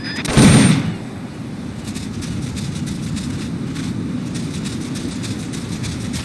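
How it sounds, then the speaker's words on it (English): An M16 assault rifle in Metal Gear Solid Peace Walker fires in a short, loud burst at the start, followed by a steady background rumble of ambient game noise. "The M16 is a standard assault rifle, capable of rapid fire."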